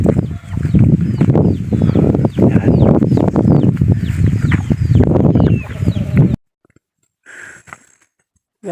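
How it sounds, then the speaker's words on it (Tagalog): A flock of farm chickens on a hillside farm clucks busily and loudly up close in overlapping bursts, then the sound drops off abruptly, leaving only a faint short voice. "Ito yung mga manok"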